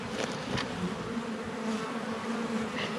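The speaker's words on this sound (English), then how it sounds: "Bees are flying lovely today." Honey bees fly around a beehive during a spring hive inspection, making a continuous close buzzing hum with a few louder passes as individual bees drift near, no talk.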